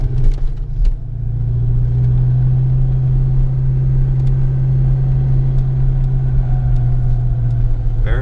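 1993 Ford Mustang Cobra on a road test drive with a new TKO600 transmission, a loud steady engine drone and road rumble that holds an even tone throughout, heard up close from inside.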